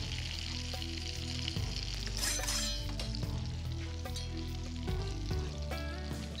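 Fish coated in breadcrumbs and Parmesan frying in a pan, a soft, steady sizzle with faint clinks and stirring under quiet background music.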